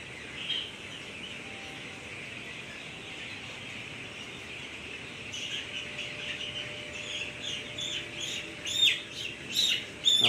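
Many young broiler chicks, about 14 days old, cheep in a steady high-pitched chorus on a poultry farm, growing louder and busier toward the end, with no talking.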